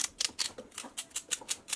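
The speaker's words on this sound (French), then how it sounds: "Je rajoute un cube et 3 branches de céleri que je vais couper grossièrement" Knife roughly chopping celery stalks on a cutting board for a tomato soup, about ten crisp, evenly spaced cuts in steady rhythm, close and fairly quiet, with no talking.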